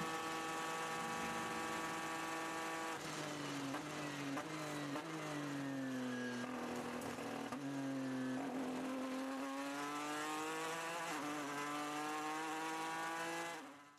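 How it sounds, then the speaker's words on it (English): A 2016 GTE Pro race car at Le Mans drones loudly and continuously, its engine pitch dipping and climbing through gear changes and throttle shifts, with no talking over it. "This is our leading GTE Pro car."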